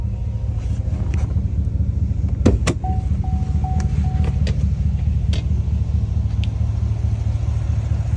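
GM 6.2 V8 truck engine running with a steady deep rumble heard from inside the cab, with a few faint clicks and short electronic chimes over the constant drone.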